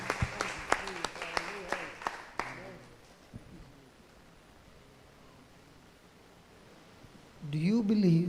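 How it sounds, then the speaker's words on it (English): A worship congregation claps in a steady, even rhythm for a couple of seconds, then a low crowd murmur continues before a voice speaks near the end. "Let's give our thanks to Jesus and clap."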